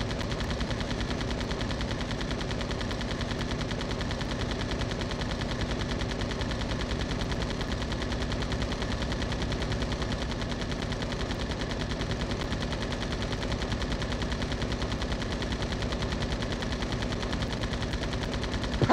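An aircraft's guns fire in rapid, unbroken bursts in the flight game Ace of the Air, a dense mechanical rattle that runs steadily and loudly throughout.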